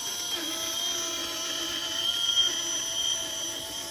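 A Traxxas TRX4 RC truck drives past as a steady whining motor and drivetrain hum with a high-pitched electric whine, rising slightly in the middle, moderately loud and alone.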